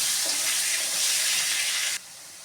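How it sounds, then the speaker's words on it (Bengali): Potatoes frying in oil, a loud, dense sizzle close by that suddenly drops to a quieter, softer hiss near the end, with no speech. "আলুটা ভেজে নেব, তারপরে কাঁচকলা দিয়ে দেবো।"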